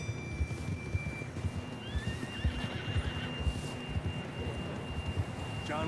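A horse in the video game Red Dead Redemption 2 whinnies repeatedly over steady clip-clop hooves and a low rumble of ambience, fairly close and continuous.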